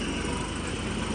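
A tractor-driven cotton carding machine runs steadily just after starting, its engine drone and mechanical rumble continuous and close, with no talk over it.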